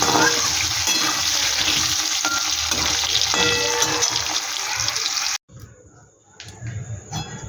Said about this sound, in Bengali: আমি সোয়াবিনটা আর এই আলুটা একটু ভালো করে ভেজে নেব।